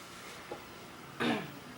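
A single short cough, faint and close, in an otherwise quiet room.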